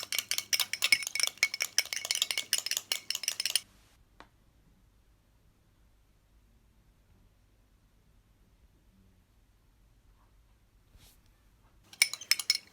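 Rapid clinking of a utensil against a bowl while stirring a curdling homemade moisturiser mixture, quick rhythmic scraping and tapping, then near silence before the stirring briefly resumes at the end.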